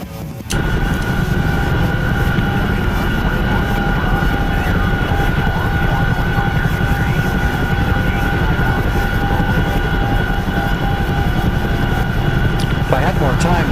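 Chinook helicopter in a video game flight, a dense, constant rotor and engine drone that stays loud and unchanging the whole time, with speech faintly mixed underneath.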